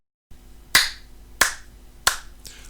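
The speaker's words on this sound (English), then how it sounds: "The figure applauds." Three sharp, evenly spaced hand claps ring out one at a time from a single figure applauding, each crack distinct and close against a quiet background.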